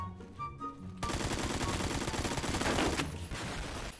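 Rapid automatic gunfire from a P90-style submachine gun in a video game, a loud sustained burst of fast, close shots that runs for about two seconds after a brief quieter lead-in and then cuts back.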